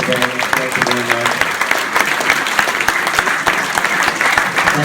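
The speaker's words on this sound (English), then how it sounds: "Let's give a round of applause for our group debaters today." An audience applauds debaters at a debate event, with loud, steady clapping throughout and a few voices and tonal murmurs mixed in near the start.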